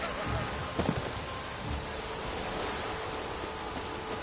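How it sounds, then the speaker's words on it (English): Steady rain pours in The Witcher 3, a dense constant hiss with a few brief louder spatters near the start, alone and without speech. "Witches have conjured rain."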